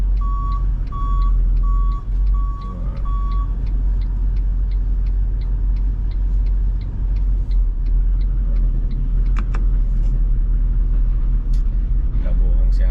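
A Toyota Land Cruiser 70 series pickup used as a mining staff shuttle reverses with a low, steady engine rumble. Its reversing buzzer gives four short evenly spaced beeps early on, and people talk inside the cab.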